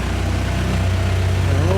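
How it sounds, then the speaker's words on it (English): A car engine with a Honda K-series swap idles close by with a steady low rumble. A voice briefly murmurs near the end. "got the car idling here"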